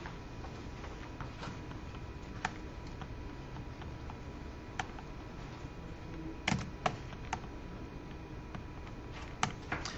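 Keys tapped on a graphing calculator while a function is entered, light scattered clicks at irregular intervals, faint and close over quiet background hiss.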